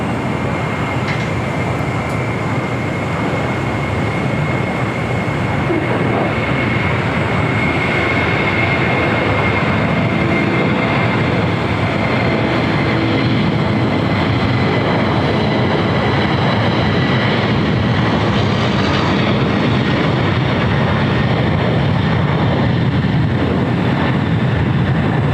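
Atlas Air Boeing 747 rolling for takeoff on runway 25 right at LAX, a loud, steady broadband engine roar that holds for the whole stretch with no voices.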